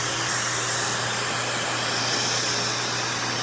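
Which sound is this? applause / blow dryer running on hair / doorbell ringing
blow dryer running on hair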